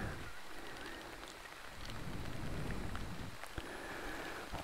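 Rain falling steadily in a forest, a soft continuous hiss of drops on leaves and surfaces with a few sharper nearby drips, fairly quiet and even throughout.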